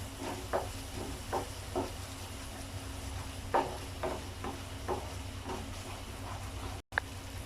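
A spoon scrapes and stirs through a thick paneer peas masala gravy just mixed with curd, making soft rhythmic strokes about every half second over a low, steady background hum.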